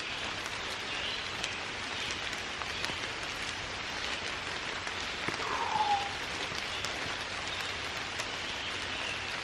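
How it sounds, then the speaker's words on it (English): Rain falls on a camera along the Appalachian Trail near Rod Hollow Shelter, a continuous close hiss of drops patting the lens and gear, with no pauses throughout. "As the raindrops fall on the camera, I don't care."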